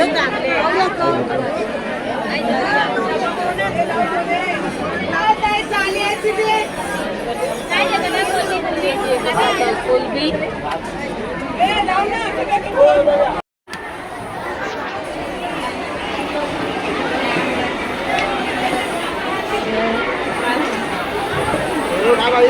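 Dense crowd chatter fills a busy wholesale fish market in Malad, a steady hubbub of many overlapping voices throughout, briefly cut off by a short dropout midway before resuming at the same level.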